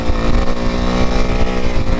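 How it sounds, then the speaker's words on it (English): Honda CRF450R supermoto motorcycle engine running steadily with a strong, even harmonic drone, loud and close, rising and falling slightly as it rides. "Honda's given me a great first experience to a motocross bike."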